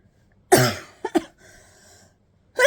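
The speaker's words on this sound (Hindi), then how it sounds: "सॉरी, मुझे खांसी आ रही है।" One sharp, close cough, followed by a couple of shorter throat-clearing coughs and a soft breath, in an otherwise quiet room with no talking.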